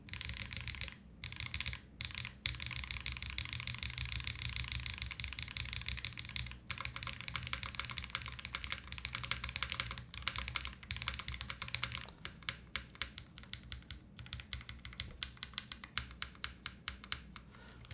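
Rapid clacking of a mechanical keyboard with GMK keycaps and an aluminum plate with silicone between, dense bursts of key presses with short pauses, close and fairly quiet.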